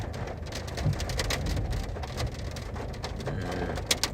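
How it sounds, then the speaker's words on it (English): Hail pounds down steadily during a severe thunderstorm, a dense, continuous roar of hard impacts with sharper clatters standing out, heard from inside a storm-chasing vehicle. "Pickerel's been just getting absolutely hammered with hail for like the last 15 minutes"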